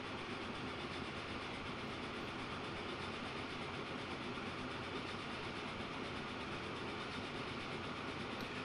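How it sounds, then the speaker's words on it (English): A train chugging along in the Transport Fever 2 video game, a steady dense rumble of wheels and engine rolling on without a break, close and constant, no voices. "Let's hop on board and see what this train here is doing."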